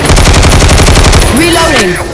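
Loud rapid machine-gun fire in Left 4 Dead 2, a fast even stream of close shots that gives way to a voice speaking near the end.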